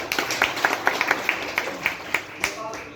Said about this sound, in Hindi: एक जोरदार ताली के साथ